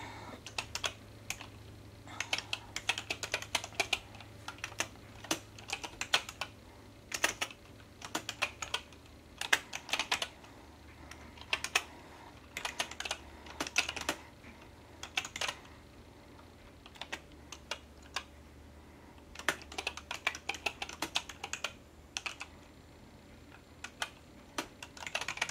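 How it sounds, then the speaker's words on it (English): Keys on a computer keyboard are tapped in irregular bursts of quick clicks with short pauses between them, close and fairly quiet, over a faint low hum. "Now we need to type something."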